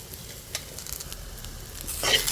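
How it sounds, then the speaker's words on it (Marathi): Bay leaf, garlic cloves and cinnamon are stirred in a hot kadhai, making a close, soft sizzle with light crackles that swells louder near the end. "आता ही कढई गरम आहे त्याच्यामध्ये आपण त्याला हलवून घेऊया"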